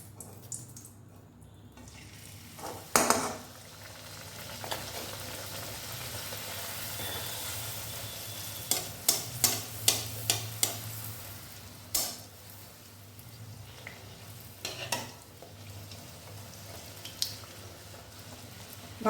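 Urad dal for kachori fries in a pan with a low, soft sizzle, broken by clusters of quick scraping stir strokes and a few louder knocks.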